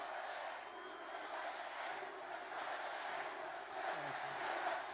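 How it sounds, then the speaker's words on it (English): A large crowd at a Trump political rally in Henderson, Nevada roars and cheers, a steady, faint wash of many voices heard from a distance. "Wow, this is a big crowd of beautiful people."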